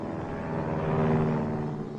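Propeller airplane flying past in an animated instructional cartoon on hitting a moving target, a steady droning engine swelling slightly toward the middle and easing off over two seconds, with no voices.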